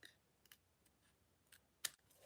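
Scissors snipping through stamped paper for a decorative tree craft project, giving a few faint, sharp clicks at irregular intervals with one louder cut near the end, close and quiet, with no talking.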